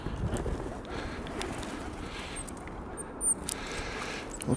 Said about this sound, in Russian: Голуби, да, молодцы.